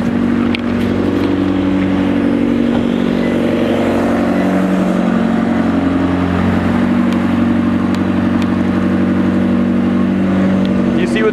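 A pump hose wedged beneath a parked car in a flooded residential court blasts water with a constant loud rushing roar and steady low motor hum, while someone talks over it.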